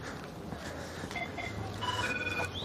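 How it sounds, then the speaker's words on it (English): A mobile phone ringing outdoors on a city walk in Philadelphia, a faint repeating electronic tone pattern rising over street and crowd noise. "Phone's ringing."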